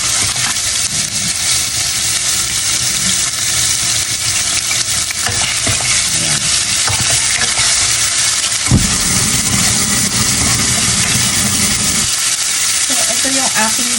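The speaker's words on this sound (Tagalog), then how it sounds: "Igisa natin." Vegetables for a simple chop suey sautéing in a pan, a steady loud sizzle with repeated stirring and scraping throughout, and a brief low rumble partway through.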